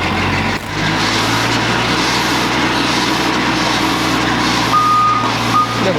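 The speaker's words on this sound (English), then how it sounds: "I just saw another truck of cement bags turn up." A truck delivering cement bags to a building site rumbles loudly nearby, its engine drone steady while intermittent reversing beeps sound faintly above it.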